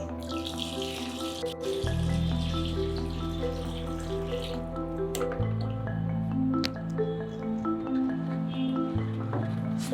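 Steady running water pours into a vessel to dissolve soda ash for soap making, with a rising, bubbly, shifting tone as it fills, interrupted by a couple of sharp clinks.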